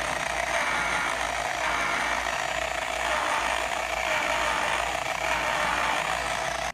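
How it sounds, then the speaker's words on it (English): An electric car polisher runs on a low setting, working rubbing compound into paintwork: a steady, close, continuous whirring motor drone with a constant hiss and no breaks or voices. "Then put our polisher to a low setting. And start polishing."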